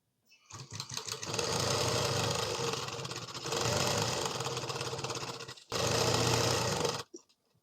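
A sewing machine stitching the back side of a chudidhar runs in three steady whirring bursts with brief pauses between, close and loud, stopping into silence at the end.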